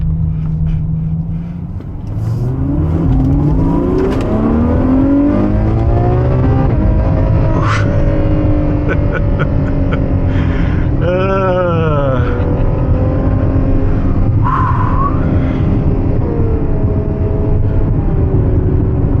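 A 789 hp Ferrari 812 Superfast V12 engine roars loudly and steadily, with rising and falling revs and a sharp sweeping rev burst partway through.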